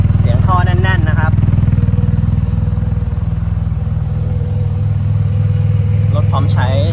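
A Yamaha TMAX SX 530 scooter from 2018 idles loudly and steadily with a deep, throbbing exhaust note, while someone talks over it at the start and end.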